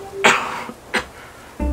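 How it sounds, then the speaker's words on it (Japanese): A speaker gives several short, dry coughs or throat-clearing bursts, close and fairly loud, spaced roughly two-thirds of a second apart, with a quiet room between them. "ちょっと咳します。"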